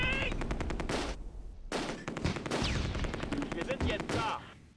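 Rapid bursts of a .30 cal machine gun firing in the wartime strategy game Close Combat II, loud and repetitive in two long strings separated by a brief pause, with other battle noise mixed in.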